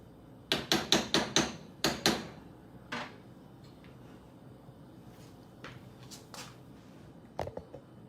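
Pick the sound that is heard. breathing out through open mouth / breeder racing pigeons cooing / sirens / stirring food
stirring food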